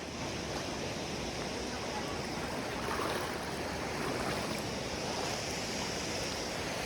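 A mountain stream behind Girnar near Junagadh rushes steadily, a dense, continuous broadband wash of flowing water close by with no pauses, unchanging across the whole stretch.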